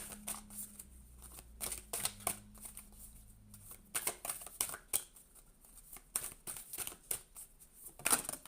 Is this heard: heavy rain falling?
no